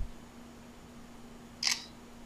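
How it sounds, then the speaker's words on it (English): A single crisp BlackBerry Z10 smartphone camera shutter click, short and fairly close, against a faint steady background hum. "that proper shutter noise is coming from the Z10"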